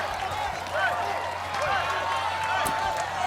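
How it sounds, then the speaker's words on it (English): A crowd cheers for an American Ninja Warrior competitor as he starts his run, a steady roar of voices and scattered claps holding at a fairly loud level throughout. "The cheer that means,"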